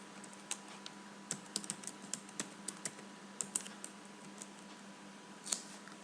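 Someone types on a computer keyboard, producing quiet, irregular clicks in short bursts with a faint steady hum underneath.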